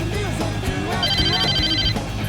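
A phone rings inside the video game Saints Row, a bright repeating electronic trill over busy game sounds and background music.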